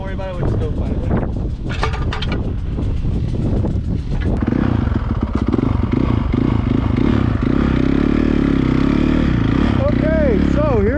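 A dirt bike ridden on a small track by the ship channel, its engine revving loud and steady with rising and falling pitch, a clattering rattle early on and a voice talking over the ride.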